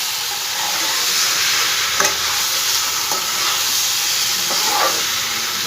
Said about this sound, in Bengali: ভালো করে একটু আবার নাড়াচাড়া করে দেবো